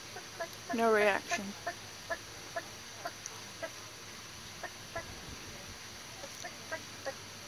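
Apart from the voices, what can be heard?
chicken clucking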